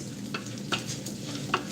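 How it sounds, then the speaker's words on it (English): Soft, steady sizzling of dried shrimp frying in a pan, with a few light scraping stirs at intervals, quiet and close. "while our shrimps fry"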